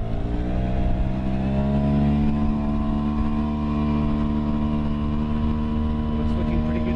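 Small outboard motor on an inflatable dinghy running in gear, a steady loud droning hum held evenly throughout, close by with no talk over it.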